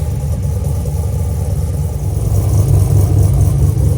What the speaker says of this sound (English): There's the cold start for you guys.